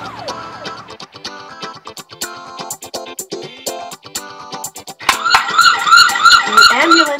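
A cartoon police car siren wails with rising and falling tones. It is loud and near, mixed with bursts of animated sound effects, and the wail grows stronger toward the end.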